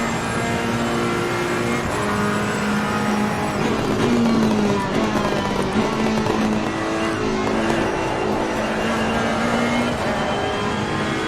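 A race car in Assetto Corsa Competizione drives hard on a track, its engine holding a loud, steady drone with shifting pitch and brief tire noise, continuous and close with no talk.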